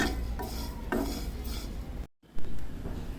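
Fennel, cumin and carom seeds dry-roasting in a pan, with close rustling and scraping strokes of a spoon in uneven rhythm and a brief gap near the end before a louder clatter.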